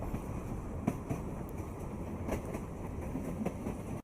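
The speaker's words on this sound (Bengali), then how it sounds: "ঢাকা থেকে ছেড়ে আসা ময়মনসিংহগামী অগ্নিবীণা এক্সপ্রেস" The Agnibina Express from Dhaka to Mymensingh rolling along its line, a steady rumble with faint rhythmic clicks of wheels over rail joints, close and continuous.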